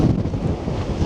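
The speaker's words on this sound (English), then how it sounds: "very windy" Strong wind gusts buffeting the microphone on Blackpool seafront during a storm with 70mph gusts and rough sea, a loud low rumbling roar filling the whole moment with no speech.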